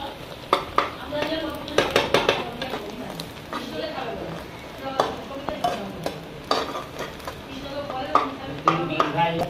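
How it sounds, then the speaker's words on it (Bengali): Eggs and onion frying in a pan are stirred with a metal utensil, producing repeated scraping clinks and knocks over a soft sizzle, close up, with a person talking through much of it. "ডিমগুলোকেও ভালো করে ভেজে নিচ্ছি পেঁয়াজের সাথে"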